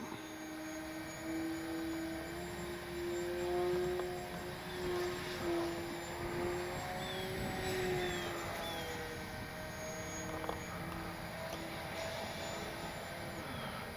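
A small E-flite Cherokee RC model airplane engine whines steadily at a distance above half throttle, its pitch drifting up and down as it circles, with no voices.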